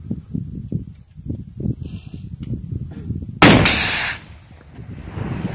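A single RPG grenade launcher shot fired by militia in Ukraine, a sudden loud close blast with a long roaring tail, following several seconds of low rumbling background noise.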